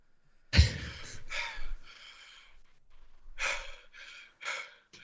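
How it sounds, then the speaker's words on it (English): A man pants furiously in an audio drama: close, ragged breaths and gasps in uneven bursts, loud at first, then a pause and another quick run of heavy breaths. "He seems to be panting furiously."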